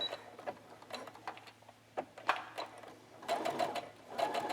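Sewing machine top stitching in the ditch along a little girl's dress bodice to secure trim, a quiet close mechanical whirr in short uneven bursts with small ticking clicks between stitches.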